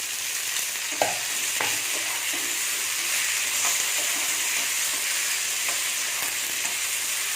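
Cut tomatoes sauté with onion and garlic in a pan for a drumstick-and-potato kara kuzhambu, giving an even, continuous sizzle with a brief utensil clatter early on and faint stirring throughout.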